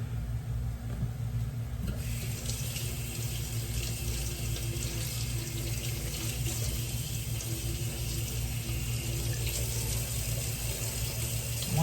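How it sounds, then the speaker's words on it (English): Items are rinsed under a running kitchen tap, and the steady splash and hiss of water continues the whole time at close range. "I rinse these off before I use them"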